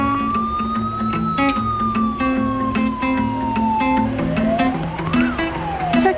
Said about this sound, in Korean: 이번에는 하동시장에 소방차와 구급차가 출동했습니다.